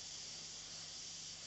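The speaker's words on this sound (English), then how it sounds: "you're just going to be further away and you're just going to smooth out the spray" Steady, even hiss of an airbrush spraying paint, held at a distance to smooth the spray, continuous and faint with no voices.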